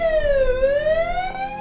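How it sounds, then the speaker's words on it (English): A loud electronic fire alarm at an oil and gas facility wails steadily, its tone sweeping down and then climbing back up, with no other sounds. "Fire alarm like this."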